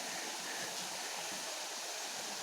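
A river flows through dense forest in Binsar, Uttarakhand, a steady broadband rush of water that holds continuously throughout, close and fairly loud with no voices.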